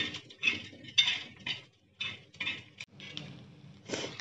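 Fried machli potha fish being served into a small bowl, with quiet, close clinks and taps of metal utensils and dishes in scattered bursts, no voices.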